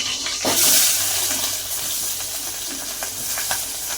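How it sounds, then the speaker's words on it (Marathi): Sliced onion frying in oil in a kadhai: a steady, fairly close sizzling hiss that flares briefly near the start, then settles into an even crackle. "चांगला कांदा फ्राय होऊ द्यायचा"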